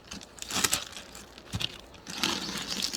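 A plastic vinyl sheet crinkles and rustles in short, close bursts as it is laid over frames inside a native Korean beehive during spring hive work, with no talking.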